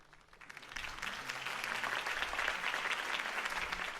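Video game crowd applause in Batman: The Telltale Series swells up after a brief quiet start and holds steady, a dense wash of many hands clapping at moderate distance.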